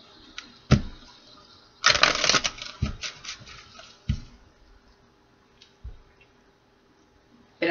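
Tarot cards shuffled by hand in bursts: a dense riffling flurry near the start, then scattered soft snaps and taps with quiet gaps between, close and fairly faint, no talking.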